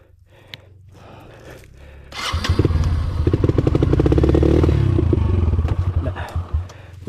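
A light motorcycle labours up a steep, slippery mountain trail on Mt Tapulao, its engine rising into a loud, sustained revving strain with clatter and thumps over rough ground after a quieter start.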